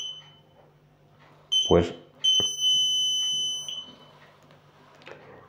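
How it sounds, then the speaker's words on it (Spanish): A buzzer on a parking-assist prototype circuit sounds a shrill steady electronic tone, first in a short burst, then a sustained beep of about a second and a half, with someone speaking briefly in between. "el pito sonará."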